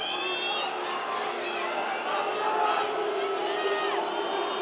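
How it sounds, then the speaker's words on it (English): An OKTAGON MMA fight crowd roars and boos continuously in a large arena, a dense, loud wash of voices with a commentator talking over the noise. "The crowd's booing"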